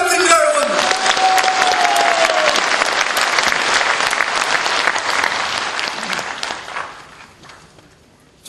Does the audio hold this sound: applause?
yes